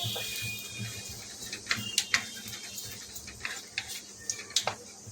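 Bengali tempering spices for dhaba-style rajma fry in hot oil: faint background sizzle broken by a scattering of sharp little pops and crackles at irregular intervals, close by and quiet.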